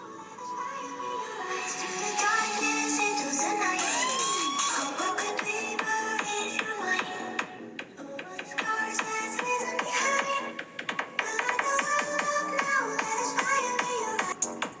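Music playing at full volume through the built-in speaker of a OnePlus Nord CE 3 Lite 5G phone, a steady, loud melodic track with layered tones and a gliding note, running continuously with no talking.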